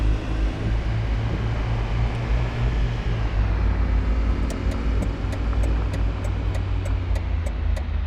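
A car engine in City Car Driving, played with a G29 wheel and stick shift, holds a steady low drone while turning, and a regular faint ticking like a turn signal joins toward the end.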